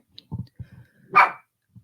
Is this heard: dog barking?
yes